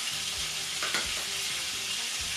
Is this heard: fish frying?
yes